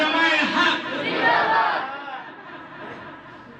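A large crowd at an Islamic religious sermon shouts a takbir chant in loud massed voices that swell and then fade toward the end.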